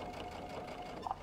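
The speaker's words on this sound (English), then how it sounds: "I'm just going to sew" A sewing machine stitching around the seam of a Minky fabric pillowcase, a steady close mechanical whir for about a second with no talk.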